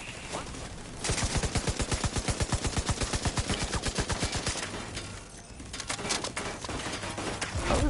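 Automatic weapon fire in the shooter game Division 2 rattles in a long, steady, rapid burst, loud and close, followed by a pause and then more shorter bursts.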